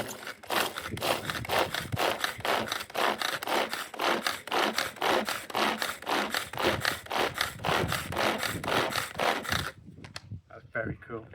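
Steady rhythmic chopping and dicing on a cutting board while making chicken doner, about two strokes per second, close and busy for several seconds before stopping; a voice speaks briefly at the end.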